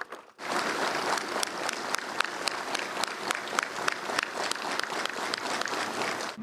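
Sustained crowd applause greets returning Azov commanders arriving home on Ukrainian soil, a dense, steady wash of many hands clapping with a few sharper claps standing out, continuing evenly for over six seconds.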